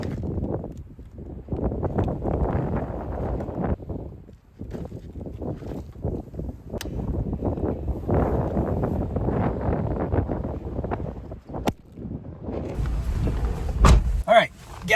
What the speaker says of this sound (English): As you can probably tell, it's super windy.